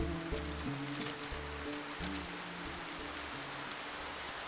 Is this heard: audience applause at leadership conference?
no